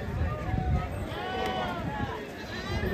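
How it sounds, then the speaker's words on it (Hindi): Sheep and goats at a crowded outdoor livestock market in Ghazipur bleat repeatedly amid a noisy hubbub of people talking and moving around. "बकरे कम है भेड़ ज्यादा है यहाँ पे उस मंडी में"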